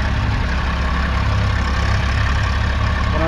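An old blue Eicher tractor engine runs in sand, a loud, steady low diesel chug throbbing continuously up close without a break.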